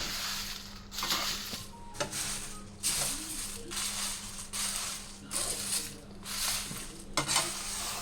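Coriander seeds, cumin, split pigeon peas and garlic fry over a low flame with a soft, steady sizzle under repeated scraping stirs of a spoon in the pan, roughly one stroke per second, close by.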